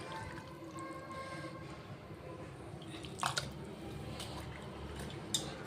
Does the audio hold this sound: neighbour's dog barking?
no